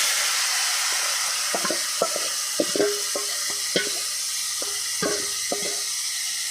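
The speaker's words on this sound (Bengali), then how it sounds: "এবার ভালো মতন এটা একটু ভেজে নেবো" Raw banana frying with cumin and bay leaves in oil in a pan, a constant hiss of sizzling under a series of sharp spoon-against-pan scrapes and knocks from stirring, close and fairly loud, with no talk.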